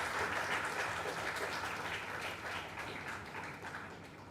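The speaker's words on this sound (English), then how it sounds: "A big round of applause for all our officers in," Applause from an audience at a formal summer school ceremony, a steady wash of many hands clapping at moderate distance, sustained throughout and gently fading toward the end.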